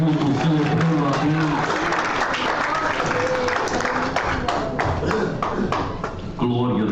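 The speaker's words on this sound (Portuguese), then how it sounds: "Você pode assentar aplaudindo a Cristo" A church congregation claps while sitting down during a worship service, a dense, steady patter of applause that lasts throughout and mixes with voices and tonal sounds underneath before fading slightly near the end.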